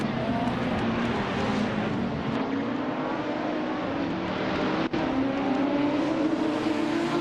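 A classic 1970 Ferrari 512S race car engine in a racing video game holds a loud, continuous high-pitched drone with slowly rising pitch, steady and close, without any talking.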